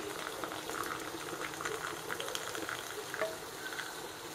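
Hot liquid from a soda-can alcohol oven outdoors pours into a cup, a bubbling, gurgling trickle that runs steadily for several seconds at close range.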